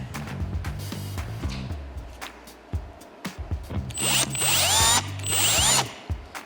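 A power drill drives screws into a tail light on a Toyota FJ62 Land Cruiser, with several short close whirring bursts separated by pauses and rising in pitch as each screw seats.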